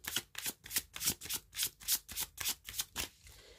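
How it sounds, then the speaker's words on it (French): Tarot cards are handled and laid out in a quick, steady rhythm of about a dozen crisp papery flicks and slaps, close and clear with no talking. "Je vais rajouter 3 cartes ici, sur l'As de coupe, pour voir ce que le tarot nous dit."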